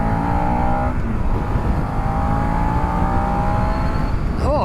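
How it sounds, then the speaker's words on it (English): A Suzuki SV650 V-twin motorcycle engine revs out under load, a loud continuous drone climbing in pitch as it accelerates, with a shift partway through, heard close and steady throughout. "it's quite nice up the top end there, the V-twin, when it revs out"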